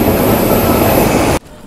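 The Bhubaneswar–Bengaluru Prasanthi Express, train 18463, rushes past in a loud, dense roar that stops abruptly, leaving quieter ambience.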